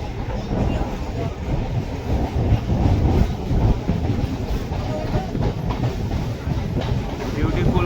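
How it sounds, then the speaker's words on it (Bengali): A train rumbles along a curved stretch of track near the Khidirpur docks in Kolkata, a steady close, loud roar with faint rhythmic clatter of wagons running throughout. "বিউটিফুল কার্ভ একটা ট্রেনের দেখতে পাচ্ছি এখানে"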